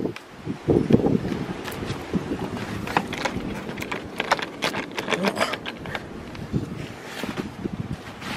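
Strong wind blows outdoors during a snow storm, gusting and buffeting with scattered clattering and rattling of loose objects, moderately loud and continuous.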